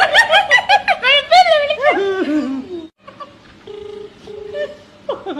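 Phone tones from a prank call: giggling and chuckling voices come first, then after a brief pause a series of short, steady electronic tones plays in an even rhythm, close and clear.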